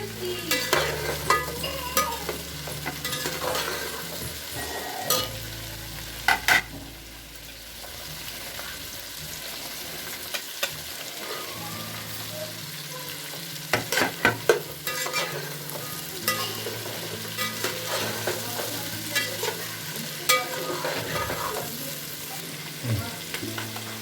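Vegetables including fenugreek leaves, peas and chakvat greens sauté and sizzle in a pan, with steady frying hiss, clinks of a spoon stirring against the metal, and occasional bumps. The sound stays close and continuous throughout.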